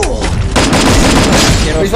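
A rapid burst of loud video game gunfire crackles continuously, dense and close, with voices faintly mixed underneath.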